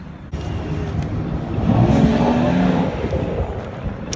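Cars on a street rev and drive past, a whirring engine swelling to a peak mid-way and then fading, heard fairly close with no voices.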